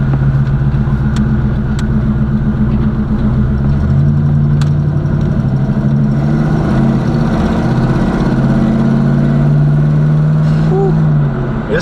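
A Box Chevy car engine idles steadily, loud and close, with a deep even rumble throughout and no voices over it.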